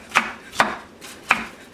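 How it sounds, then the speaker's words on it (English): A knife chops food on a cutting board while cooking Haitian griot and plantains, with three sharp, evenly spaced close-up knocks and no talking. "Chop, chop, chop."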